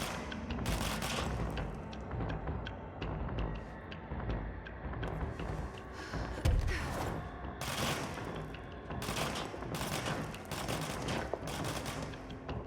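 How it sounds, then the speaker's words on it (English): Gunfire in the video game Control, sustained rapid bursts of shots that sound fairly distant, with a sharper boom partway through and no talking. "Are you really shooting at me from down there?"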